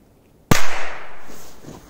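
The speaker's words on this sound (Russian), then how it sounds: "однозначно мощная петарда" A single sharp, loud bang from a Korsar 1 firecracker goes off close by, followed by a fading rumbling echo.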